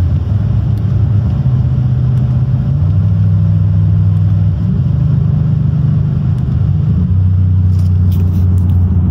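An Audi RS6 with a ZF8HP55 automatic gearbox and stage 1 transmission tune accelerates and downshifts, a loud, steady low engine drone heard from inside the car, rising and dropping in pitch as gears change.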